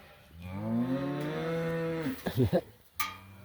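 A horned cow that calved the day before moos loudly for her calf outdoors on a farm, one long drawn-out call followed by a few shorter broken lows, close to the listener.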